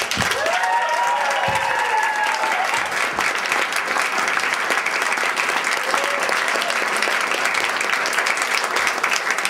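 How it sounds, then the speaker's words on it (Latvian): Sustained applause fills a hall at a choir school evening, dense and loud for the whole stretch, with a few faint cheers and a brief voice near the start. "aplausus lūdzu"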